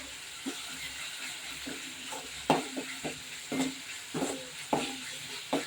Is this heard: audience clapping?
no